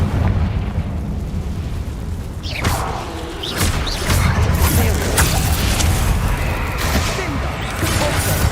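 Fiery Confringo spell blasts in Hogwarts Legacy, loud booming bursts recurring over dense low rumble throughout, with sharp crackling hits near the start and middle.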